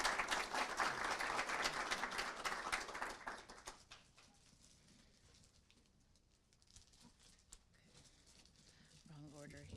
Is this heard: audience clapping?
yes